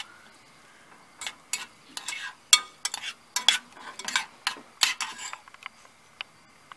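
Cuban sofrito frying in a pan for green peas cooked over charcoal, quiet crackling sizzle with a run of sharp scraping stirs clustered in the middle.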